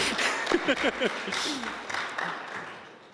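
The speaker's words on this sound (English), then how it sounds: "Give a big hand of applause" A student audience at a graduate students' society election applauds candidate Holly Brown, moderate clapping that swells and then fades, with voices briefly audible over it early on.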